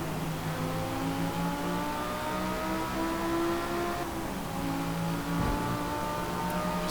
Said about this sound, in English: Just notice the driver changing gears there.